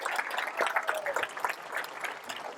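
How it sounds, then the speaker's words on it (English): A graduation audience gives the graduates another round of applause, a dense, moderately distant patter of many hands clapping continuously. "Let's give these graduates another round of applause"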